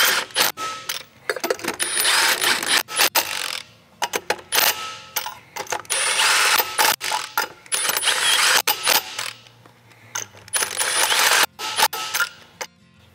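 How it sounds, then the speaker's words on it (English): Wrench ratcheting while tightening the wheel lug nuts on a Timberleaf trailer, heard as close, bright clicking runs in several bursts with brief gaps, loud and without talking. "you can use your impact driver or your wrench to tighten them all the way"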